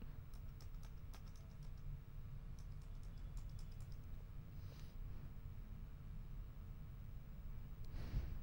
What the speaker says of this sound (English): and then move with arrow on the keyboard.